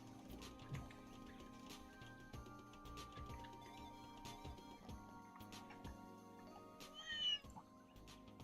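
A cat meows once, a short, faint mew near the end, over a quiet in-game background of soft ticks and drips in Trails in the Sky.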